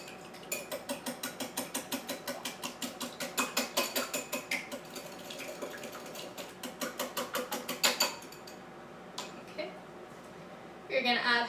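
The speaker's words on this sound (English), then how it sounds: "You're going to whisk it up." A whisk clatters rapidly against a bowl while pancake batter is mixed for a Dutch pancake, a fast ticking rhythm in bursts that pauses and resumes, close and fairly quiet.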